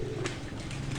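Breeder pigeons coo softly in a brief, low, throaty call, faint against background noise.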